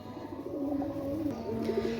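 Pakistani pigeons coo in low, throaty, rolling calls, several overlapping close by, with the soft murmuring phrases repeating steadily over a faint room background.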